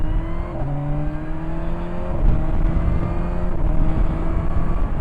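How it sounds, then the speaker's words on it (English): Kawasaki Versys 1000 SE four-cylinder motorcycle pulling away in second gear, engine note climbing steadily with a quick gear change early on, heard loud and close from the rider's position with wind noise. "Second gear pull away."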